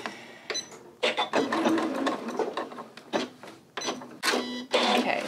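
A domestic sewing machine stitches an elastic waistband casing on a Lou Box dress, running in several close bursts of steady mechanical whirring separated by short pauses, with no talk.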